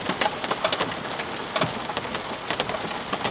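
Heavy rain pours over a valley campsite during car camping, a dense steady wash of downpour with sharp, close drops pattering irregularly on nearby surfaces.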